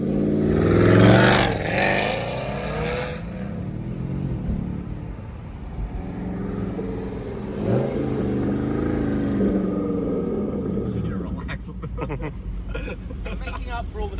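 A supercar engine revs in short bursts beneath people talking close by, the rumble swelling and fading as voices continue over it.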